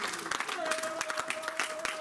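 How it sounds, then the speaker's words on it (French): Congregation clapping in acclamation during a French-language church sermon, a dense spatter of hands with a few sharper individual claps, mixed with voices and a sustained sung or held tone. "Donc là, il y a une acclamation au Seigneur."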